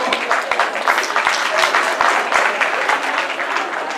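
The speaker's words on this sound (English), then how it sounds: "Give her a round of applause." A conference audience at an intercultural event applauds a guest, the daughter of the President of the Republic, with sustained, steady clapping and faint voices mixed in.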